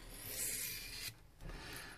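A kitchen knife drawn across a wet whetstone in steady rasping strokes, close and fairly quiet, with a brief pause between passes and no talking.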